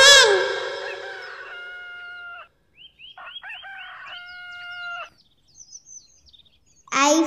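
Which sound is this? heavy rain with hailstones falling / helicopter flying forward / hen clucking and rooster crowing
hen clucking and rooster crowing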